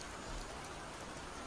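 Steady rain falls on a surface as a soft, even hiss with faint pattering, continuous and fairly distant, with no voices.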